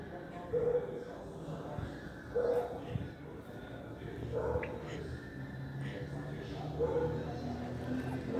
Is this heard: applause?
no